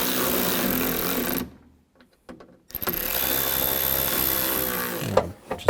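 A power tool drives bolts on a 2000-06 GMC Yukon front door latch, a loud buzzing whir close by that stops for about a second before a few clicks, then runs again and ends in brief knocks.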